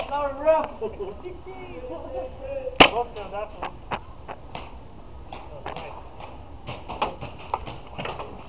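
Airsoft pistol fire in a close-quarters combat game: one sharp crack, then a run of quicker snapping shots, with voices calling out early on and light rustling between shots.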